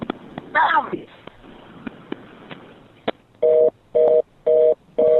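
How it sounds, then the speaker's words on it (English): A telephone line gives off repeated tone beeps, four evenly spaced pulses near the end, after a stretch of faint clicks, thumps and a brief voice. "Hear that dial tone?"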